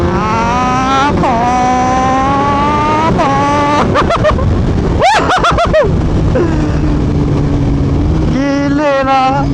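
A 2022 Yamaha MT-09 V3 motorcycle with an aftermarket exhaust revs loudly and close, its engine note rising and falling through several throttle blips, with a burst of sharp rapid revs in the middle.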